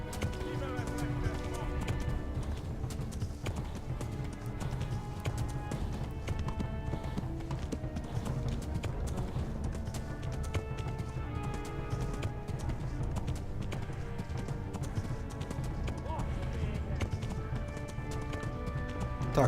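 Rapid, rhythmic hoofbeats of a galloping horse in Kingdom Come: Deliverance run steadily throughout, blended with game music and a voice speaking over them.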